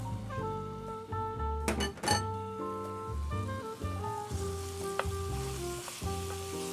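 Chicken pieces sautéing in a pan for pineapple chicken curry, a steady sizzle with spoon scrapes and clanks as it is stirred, under a sustained tonal hum of background music.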